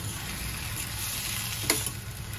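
Ground masala paste frying in a pan, a steady sizzle throughout with a brief brighter crackle and spatter partway through, close and alone with no talk.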